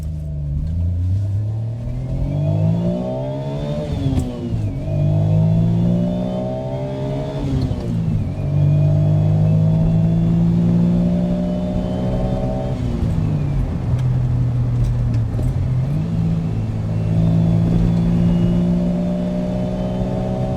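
A Mazdaspeed Autozam AZ-1 accelerating hard through the gears, its small engine rising in pitch in repeated sweeps with brief dips at each upshift, loud and continuous from inside the car.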